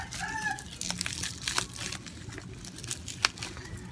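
Chickens cluck and squawk intermittently outdoors behind a house at moderate distance, with scattered rustling and clicks among the calls.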